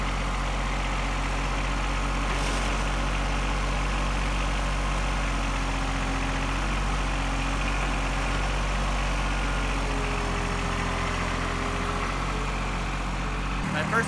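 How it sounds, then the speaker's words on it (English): A tractor engine runs steadily while lifting an IBC tote for firewood storage, a constant low idling drone that stays even throughout with faint talk over it. "First we can see if the tractor can lift it"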